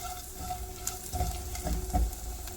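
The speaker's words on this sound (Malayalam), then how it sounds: "നന്നായിട്ട് സവാള വഴന്ന് വരുന്നുണ്ട്" Chopped onions sizzle and hiss steadily in a hot pan for a potato masala, with a few soft stirring scrapes, close and continuous with no talking.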